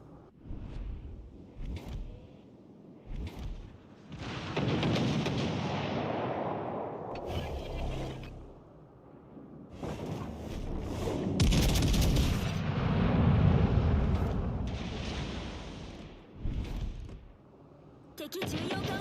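Warship guns fire high-explosive shells in World of Warships Legends: repeated heavy booming salvos rise and fall among rumbling battle noise, with in-game voice lines and spoken commentary.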